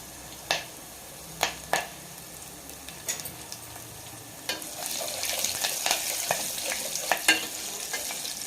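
Garlic and curry leaves fry in tempering oil. A few sharp taps and clicks come first, then a sizzle that swells and stays close, with scattered spoon knocks on the pan.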